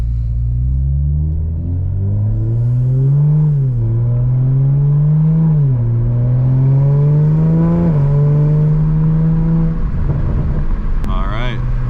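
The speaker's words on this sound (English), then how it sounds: "Today we're going to be taking a night drive here in my 780 horsepower Supra." Engine of a 780-horsepower 2020 Toyota Supra on a night drive, a loud steady droning rumble whose pitch climbs and dips through repeated gear changes, then drops off near the end as it lifts off throttle.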